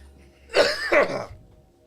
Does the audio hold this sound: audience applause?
no